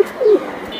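A Giribaj pigeon held in the hand gives a single short throaty coo, close and clear, with faint background noise.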